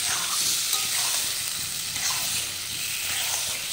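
Food being stirred and sautéed in a pan, a steady close sizzle with scraping stir noises running throughout, no talking.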